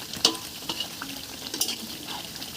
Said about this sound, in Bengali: মশলা কষা হয়ে গেছে ভাজা আলুগুলো গ্রেভির মধ্যে দিয়ে দেবো